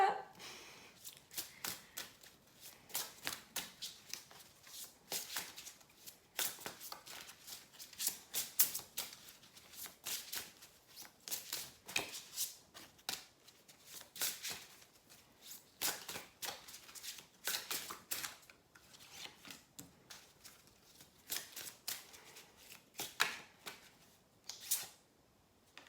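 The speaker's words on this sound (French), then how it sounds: "j'ai juste envie de brasser les cartes et voir ce qui sort" Tarot cards shuffled by hand in repeated crisp riffling bursts, close and fairly quiet, continuing steadily throughout with no talking.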